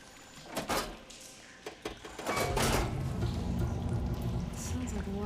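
Water flow switching on inside machinery in Horizon Forbidden West: a few brief clanks, then a loud, steady rushing pour starts and keeps running close by.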